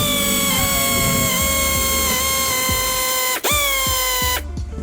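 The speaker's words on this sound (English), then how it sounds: "now I got my NASCAR Ugga gun. And then I'm gonna take off all these 8mm bolts" An air impact gun works on the 8mm under-tray bolts of a car with an N55 engine. It gives a loud, steady whine with rapid rattling pulses underneath, stops briefly, starts again, then cuts off.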